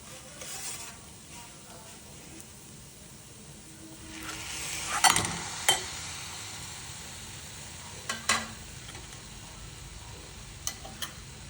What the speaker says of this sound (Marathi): मग टाकायचं टमॅटो प्युरी